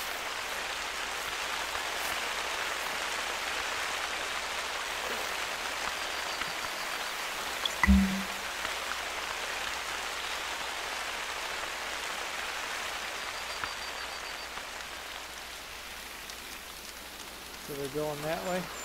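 Steady rain falls throughout in theHunter: Call of the Wild, a dense hiss filling the scene, with a brief low thump near the middle and faint talking under it.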